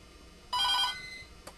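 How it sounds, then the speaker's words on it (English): A telephone bell rings once in a short, bright burst lasting under half a second in a quiet indoor room, followed by a faint click. "Pardon the phone. I'll wait until it finishes ringing."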